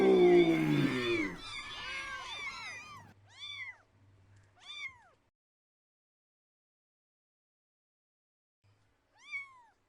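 A swarm of cats meows loudly and densely at first in an audio drama. The cries thin to a few separate, close meows, then a pause and one final meow.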